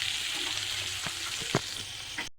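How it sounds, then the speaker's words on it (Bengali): Capsicum and onions sizzle steadily in a hot pan with slit green chillies, a continuous frying hiss broken by a few sharper crackles and spatters, close and fairly loud with no voices. "ক্যাপসিকামও ভাজা হলো, টমেটোগুলো দিয়ে দিচ্ছি।"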